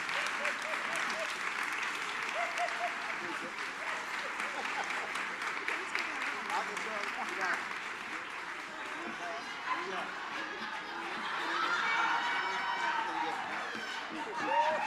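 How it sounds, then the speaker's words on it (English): An audience applauds for Hillary Clinton at a political event, the clapping dense and fairly distant under a voice that keeps talking over it, then swelling louder near the end. "Round of applause, please."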